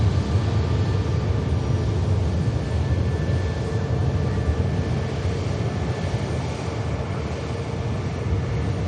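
A Finnair airliner lined up for departure at Manchester Airport idles with a steady engine roar and faint whining tones, near and continuous, slightly easing toward the end.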